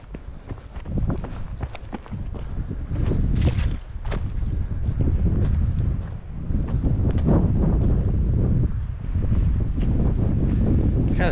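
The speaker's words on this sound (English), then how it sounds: "The wind feels really good." Steady wind buffets the microphone on a forested backpacking trail in central Pennsylvania, a loud continuous rumble with a few footsteps and brief gusts, no talking.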